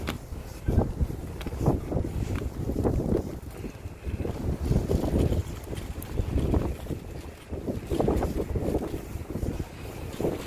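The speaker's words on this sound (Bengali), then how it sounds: "বাইরে বাতাস হইতেছে হালকা।" Light wind blowing outdoors in Italy, a steady broadband rush with microphone buffeting that rises and falls continuously throughout, fairly loud and close, with no talking.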